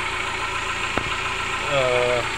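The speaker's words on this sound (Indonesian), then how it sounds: "langsamnya atau idle-nya ini udah normal" A car engine idling at a normal steady speed, a close, continuous low hum with a smooth even rumble and a slight rise in tone near the end.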